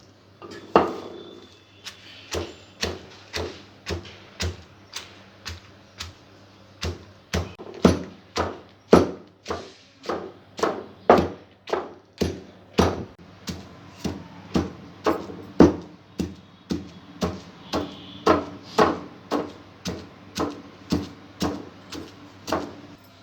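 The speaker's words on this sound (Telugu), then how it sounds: "పల్లీలు, ఎండుమిర్చి, పచ్చిమిర్చి బాగా మెత్తగా నూరిన తర్వాత" Steady rhythmic pounding of peanuts with dried and green chillies in a stone mortar, dozens of sharp hard knocks spaced about half a second apart, close and clear with no talk.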